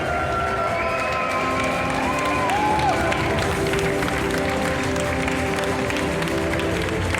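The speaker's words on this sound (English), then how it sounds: "Big round of applause." Crowd at an award ceremony applauding and cheering continuously, a dense wall of clapping with whoops and shouts rising over it.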